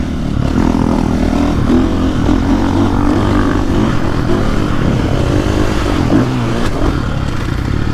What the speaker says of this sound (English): these KTMs, this 60 horsepower is so easy to ride